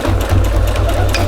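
A sewing machine runs over an existing seam on a homemade knitting-needle holder, a loud, close, continuous mechanical whir with a steady low hum.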